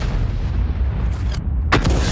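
A single heavy artillery shot from a 155 mm Bat.-Châtillon tank gun in World of Tanks, a sharp boom landing near the end over a low, rumbling battle backdrop.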